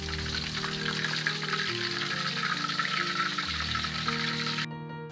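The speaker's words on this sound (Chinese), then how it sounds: "保持中火再炸至40秒钟，炸至鸡架都漂浮在油面" Chicken frames deep-frying in hot oil over medium heat, a steady dense sizzle and bubbling close up, with a faint low background hum throughout.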